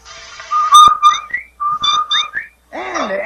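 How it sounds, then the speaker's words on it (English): The Rinso White advertising whistle on old-time radio: a bright, warbling tune of several short rising and falling notes plays loudly, ending with a wobbly electronic-sounding sweep. "That's the Rinso White whistle."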